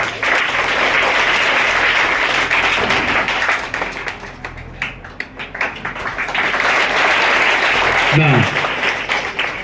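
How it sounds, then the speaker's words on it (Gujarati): A crowd gives a hearty round of applause with flowers to welcome a woman at an ashram school donors' function, sustained clapping from many people throughout, with a brief thump near the end. "પૂર્ણિમાબેન દેસાઈનું આપણે જોરદાર તાળીઓથી અને પુષ્પથી આપણે સ્વાગત કરીએ"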